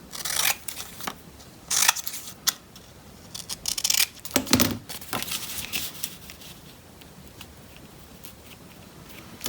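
Scissors snip through coloured paper while squares are cut for a handmade Santa Christmas card, with crisp close cuts arriving in short clusters separated by quiet pauses and light paper rustling.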